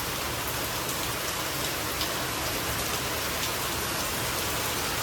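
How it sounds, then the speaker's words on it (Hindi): Heavy rain pours down in a dense, steady, unbroken hiss that stays uniformly loud the whole time, with no voices over it. "बहुत तेज बारिश हो रही है यार"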